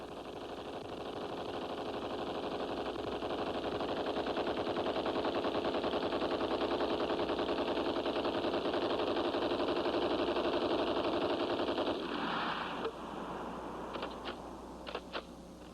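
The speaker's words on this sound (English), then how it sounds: "Even today, the Browning machine guns are part of the U.S. military armaments and are also in use in many other countries." Browning machine guns firing in a long, dense sustained burst, loud and steady for about twelve seconds, then cutting off into a few scattered sharp reports.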